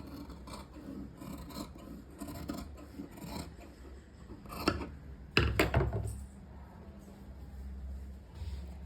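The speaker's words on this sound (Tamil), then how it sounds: "இப்போ வந்துட்டு நம்ம கட் பண்ணி எடுத்துடலாம்" Scissors cut through cloth for a crop top, a soft rasping, rustling series of snips and fabric rubs close by, growing louder with a burst of quick crisp cuts near the end.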